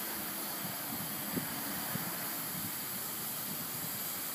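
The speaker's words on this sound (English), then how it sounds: "That's steam." A steady, broad hiss of steam escaping from an opened boiler try cock fills the clip at an even level, close and continuous, with a faint low rumble underneath.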